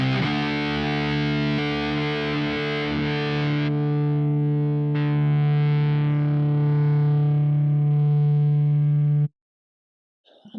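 Distorted electric guitar through a Quad Cortex preset using the Brit 2203 amp model on channel 3: a heavy, sustained low chord rings out, then cuts off abruptly into near silence.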